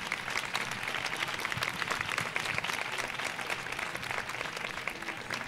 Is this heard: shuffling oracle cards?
no